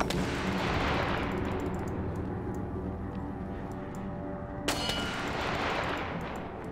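Gunfire in the war survival game This War of Mine, a dense, loud barrage of shots over a steady roar, with one sharp crack standing out near the end.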